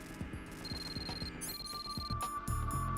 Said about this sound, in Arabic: التليفون كيصوني.